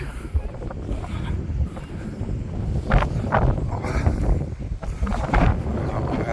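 Gusty wind at Ashover Rock buffets the microphone in low rumbling bursts, with occasional brief voices mixed into the roar.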